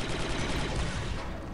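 Sniper gunfire in the Star Wars: Republic Commando video game, a dense, steady burst of loud, noisy shots and rattle filling the whole stretch with little pause.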